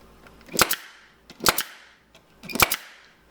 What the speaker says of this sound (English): I'm going to pull the pleat around back, staple it.